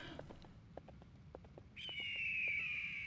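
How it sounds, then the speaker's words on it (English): Bird call sound effect: a short, bright whistled call rises near the end and holds steadily over a quiet background of faint scattered clicks. "Look, it's not an airplane, it's a bird,"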